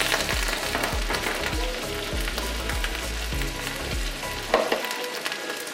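Cumin seeds sizzling loudly in hot ghee, a dense, steady crackle with regular stirring scrapes through it, up close, with no talk.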